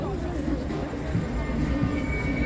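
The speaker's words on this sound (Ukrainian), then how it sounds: "львівський трамвай" A Lviv tram rolls along a city avenue on a busy evening, a steady low rumble of wheels on rails that fills the whole stretch with faint street noise around it.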